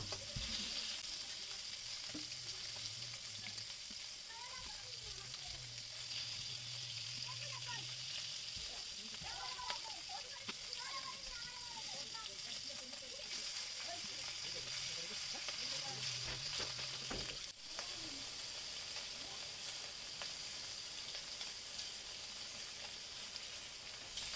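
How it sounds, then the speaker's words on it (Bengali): Koi fish frying in oil on a village clay stove gives off a soft, continuous sizzle and hiss, fairly faint and steady, with some low background sounds and no clear talk over it. "এই জন্য ভাজতেও সময় লাগতেছে আর কি সব মাছ বেশিরভাগ ভেজে নেবো"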